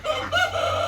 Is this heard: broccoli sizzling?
no